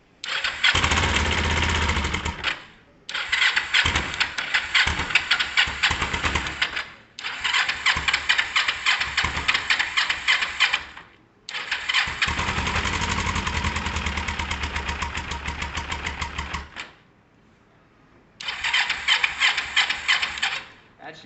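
A Kawasaki ER5 motorcycle engine starts on the button and idles after a carburettor clean, running in several loud bursts with short silent gaps where it cuts out before firing again.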